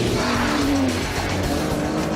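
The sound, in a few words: Aston Martin DBS V12 engine running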